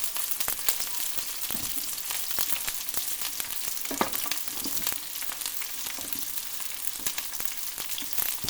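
Cauliflower florets, green chillies and onions frying in a pan, a constant close sizzle broken by frequent sharp clicks and scrapes of stirring, with no voices.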